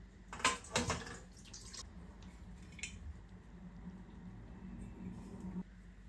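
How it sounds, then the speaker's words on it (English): Plum nalewka being poured from a jar into a colander set over a bowl: a few clinks of glass and fruit at the start, then a quiet, steady trickle of liquid. "I pour the entire contents of the jar."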